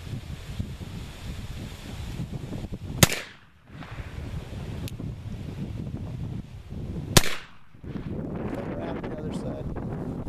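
Two sharp black powder shots from an 1851 Navy revolver fired outdoors, each a loud crack followed by a brief dip, spaced about four seconds apart over steady wind noise and rustle, with people talking in between.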